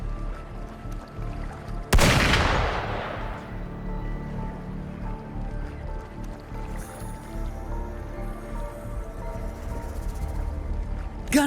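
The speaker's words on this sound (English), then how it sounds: "Gunfire! We've got intruders." A single sharp, loud gunshot-like burst rings out in the video game Wuthering Waves, decaying quickly into a low, steady ambient background that continues alone.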